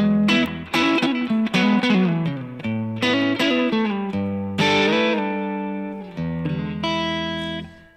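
A clean electric guitar tone from an SVL into a Two Rock Classic Reverb Signature amp. A loud, close phrase of chords and single notes rings out with sustained, shimmering decay, with no talking.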